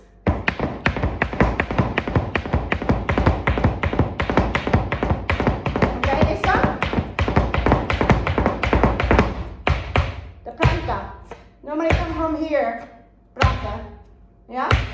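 Flamenco zapateado footwork drills: rapid, dense heel and toe taps and stamps on a hard floor, close and loud. The taps become sparser near the end as a person starts talking.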